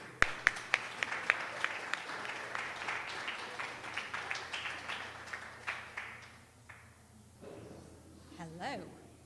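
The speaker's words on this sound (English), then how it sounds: "Round of applause." An open mic audience claps for the next performer, a few crisp individual claps growing into brief applause that fades after several seconds, followed by a voice speaking near the end.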